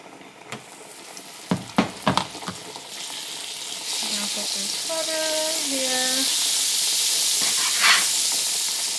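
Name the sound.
shrimp frying in butter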